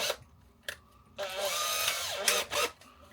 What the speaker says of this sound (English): So this is my regular drill that I use quite a lot. Put in a fresh hole.